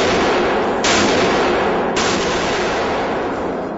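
Rifle rounds, including .308, .30-06 and 5.56, are fired at body armor plates. Two sharp, loud reports land about a second apart over a dense, roaring background, with no voices.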